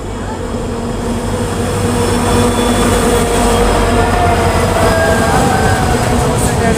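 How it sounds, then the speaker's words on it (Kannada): A Goa-bound Madgaon Express train arriving at Dharwad station, a steady loud rumble of wheels and carriages rolling close by throughout, with no voices over it. "ನೋಡ್ರಿ ಇಲ್ಲಿ ಅಲ್ಲಿ ಟ್ರೈನ್ ಐತಿ. ಟ್ರೈನ್ ಬಂದೈತೆ ರೀ."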